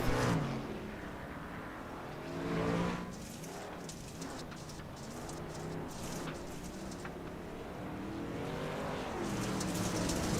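Racing trucks, including a Silverado, run on a dirt track in a racing video game, a steady blended engine drone with mild surges, fairly faint and distant, no talk heard.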